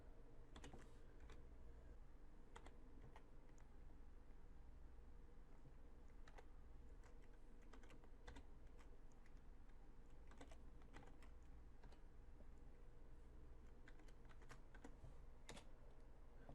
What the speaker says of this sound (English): give me a second while I type in that very long password